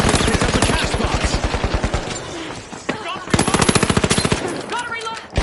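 Automatic gunfire in The Finals shooter game comes in two loud, rapid bursts of closely spaced shots, separated by a short pause with a brief single crack and other game sounds.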